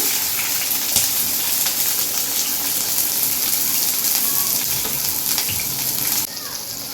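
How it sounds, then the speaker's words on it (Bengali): Onion and capsicum frying in a pan on the stove, a loud continuous sizzle with a few clinks from stirring, easing off slightly near the end. "আমি পেঁয়াজটা আর ক্যাপসিকামটা ভেজে নেব এবার আমি ক্যাপসিকামটা দিয়ে দিলাম"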